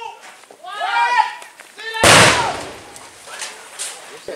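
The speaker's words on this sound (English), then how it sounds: "another suspected bomb hidden under a bed was discovered. It was also successfully detonated." Controlled detonation of a suspected bomb that had been hidden under a bed: a single sharp blast strikes suddenly mid-clip and its noisy rumble lingers, preceded by people talking and shouting.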